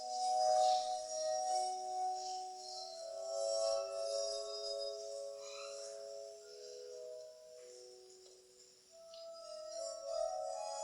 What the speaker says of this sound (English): it really does kind of sound like when you play with a glass